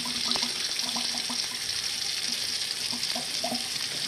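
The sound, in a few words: water draining from a can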